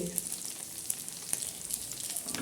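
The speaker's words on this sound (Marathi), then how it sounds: "ह्या पद्धतीने असे मस्त वडे तळून घ्या" Sabudana vadas shallow-frying in hot oil give a soft, continuous close sizzle with small crackling pops scattered throughout, with no talking.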